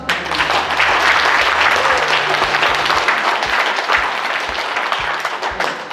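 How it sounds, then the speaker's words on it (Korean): Loud, sustained applause from the audience at the opening ceremony of an 80th-anniversary exhibition of a Busan art association, with a low hum or background music underneath and the clapping easing slightly toward the end. "한 걸음 더 크게 나아가시려고 응원을 담아 다시 한번 큰 박수 부탁드립니다"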